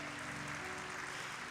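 A church congregation applauding at a family service, a steady, faint wash of many hands clapping together without pause.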